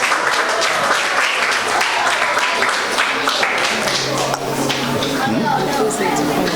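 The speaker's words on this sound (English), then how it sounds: "Okay, give them a round of applause." Audience applause for a performing artistic group at a mental health seminar, a dense, steady crowd ovation with voices mixed in underneath.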